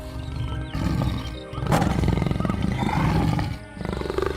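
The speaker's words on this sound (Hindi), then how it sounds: "कुछ ही पलों में एक खतरनाक बाघ उनके सामने आ खड़ा हुआ" A tiger's roar in an animated Hindi story, several loud growling roars in bursts rising and falling close up, with no talk over them.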